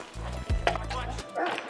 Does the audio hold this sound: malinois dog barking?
yes